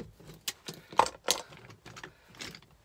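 Electrical plugs are trimmed from their cables and tossed into a pot, producing a few sharp clicks, snips and metallic clinks spread across a quiet background.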